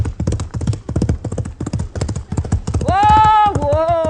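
Horse hooves clip-clop in a quick, steady rhythm with a rider in the saddle, loud and close, then a sung voice rises over the trotting near the end.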